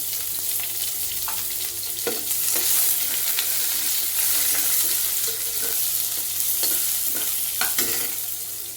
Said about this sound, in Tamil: இப்போ பட்டைக்கிராம்பு கருவேப்பிலை போட்ட பிறகு வெங்காயத்தை போட்டு வதக்கணும்.